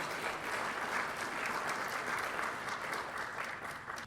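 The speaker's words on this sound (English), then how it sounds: "give him a big round of applause to start it off." An audience at an early-morning medical lecture on AI and pulmonary care breaks into steady, dense applause that carries evenly from start to finish and tapers slightly at the end, with no talk over it.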